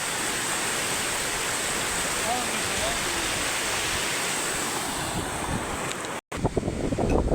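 A village river flows steadily, a dense, continuous wash of running water close by, with wind rumble on the microphone and a brief break near the end before the rush resumes.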